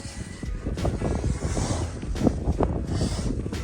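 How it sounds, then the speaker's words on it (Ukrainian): Gusty wind buffets the microphone beside a John Deere 1166 combine harvester in rough, rumbling bursts, loud and close, with a few sharper knocks mixed in. "тут вітер, конечно, дує"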